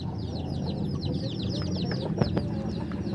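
Chickens cluck and chirp softly in a busy farmyard, short repeated calls scattered over steady background noise, with a couple of louder sharp squawks near the end.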